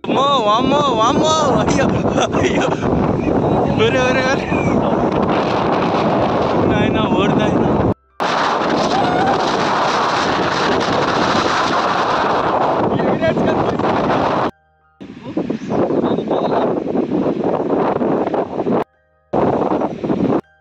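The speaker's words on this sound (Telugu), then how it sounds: "ఒక్కసారి ఇక్కడ గాలి ఎంత కొడుతుందో మీరు కూడా ఒకసారి వినండి." Strong wind blows by a river during a fishing trip, roaring and buffeting hard against the microphone in long gusts broken by brief pauses, with a person talking through parts of it.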